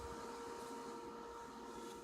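A 140-amp inverter welder switched on, its cooling fan running as a faint, steady whirring hum with a constant tonal whine.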